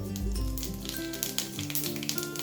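Cumin seeds sizzle in hot oil in a pan at the start of a Manchurian gravy, giving a steady close crackle with small taps and stirring clicks throughout and no talking.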